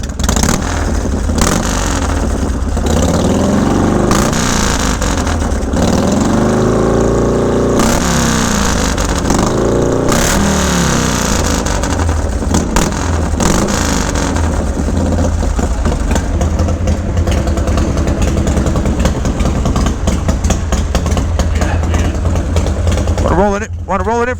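A 1984 Harley-Davidson FXRP motorcycle rumbles loudly up close, its idle swelling into several rising and falling revs before settling back into a choppy, throbbing idle.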